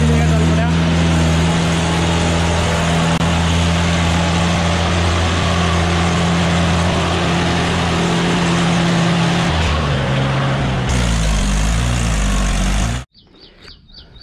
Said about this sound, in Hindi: ये 575 महिंद्रा 575 DI ट्रैक्टर है